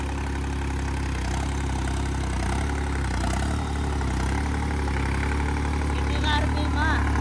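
A New Holland 3630 tractor engine idles steadily and continuously at close range, with a constant low rumble throughout.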